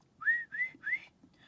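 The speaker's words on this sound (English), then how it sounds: "My brother taught me to whistle" A person whistles three rising, sliding notes in quick succession, fairly clear and close over a faint low background rumble, with a fourth softer note starting at the end.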